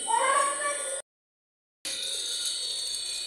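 A cat being bathed gives loud, drawn-out meows, one call, a short silence, then another sustained cry, close and shrill.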